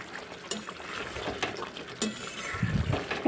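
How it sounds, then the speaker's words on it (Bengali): Fried potatoes stirred into egg curry in a pan, heard as a few close scrapes and clinks of a spoon against the metal pan over soft wet bubbling, brief and with no talk. "ভেজে রাখা আলুগুলোকে দিয়ে দিয়ে একটু নাড়াচাড়া করে নেব।"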